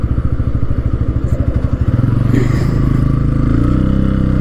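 Bajaj Pulsar N160 motorcycle engine starting up close: rapid thumping cranking pulses that catch into a steady, loud idle with some clatter.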